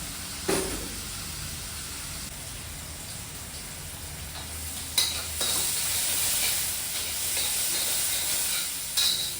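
Ingredients for dal dhokli sauté in a pan with a steady, bright sizzle and hiss. Sharp scraping stirs land near the start, around the middle, and just before the end.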